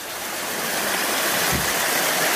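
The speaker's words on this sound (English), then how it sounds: "the rain pouring off this hill from behind where they're working" Heavy rainwater pours down a hillside behind an outdoor rakija-making site in rural Bosnia and Herzegovina, a loud, continuous rushing wash of water with no talking.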